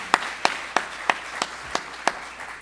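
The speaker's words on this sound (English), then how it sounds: "Give yourselves a round of applause." An audience at a campus speaking event claps in sparse, evenly spaced single claps, seven crisp hand-claps at a slow steady rhythm, fairly close and clear against a quiet room.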